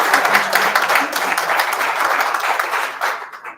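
An audience at a Davos panel on U.S. Hispanics gives sustained, dense applause, many hands clapping steadily at close range before the sound tapers off.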